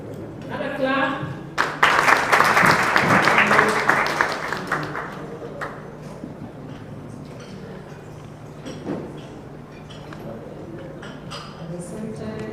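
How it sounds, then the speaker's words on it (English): Applause bursts out at a Kenyan media signing ceremony with the election commission, a loud patter of clapping that swells and fades over a few seconds, with voices talking indoors before and after. "Another clap."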